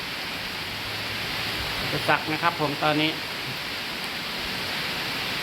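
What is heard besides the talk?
rain falling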